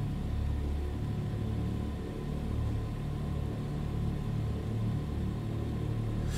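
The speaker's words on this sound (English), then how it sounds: "the sound of two piston radials" Steady droning rumble of the two piston radial engines on a DC-3 airliner in Microsoft Flight Simulator, a continuous, even, mid-loud hum with no talking.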